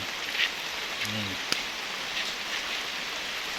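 Rain falls steadily along the trail to Tumpak Sewu waterfall in Lumajang, East Java, a dense continuous hiss with a brief murmur and a sharp tap standing out early on.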